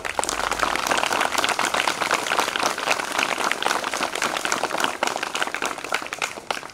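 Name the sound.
students clapping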